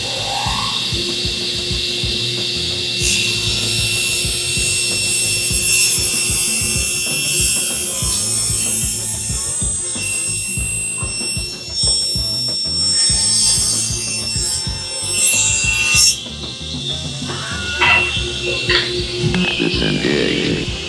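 Table saw in a woodshop runs steadily the whole time, a dense mechanical whir with a grinding, rasping edge as the blade works through wood, close and loud without a break.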